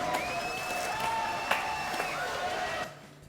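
Studio audience on a French television talk show applauding a guest, a steady clapping wash with some cheering that tails off at the end, while music plays underneath.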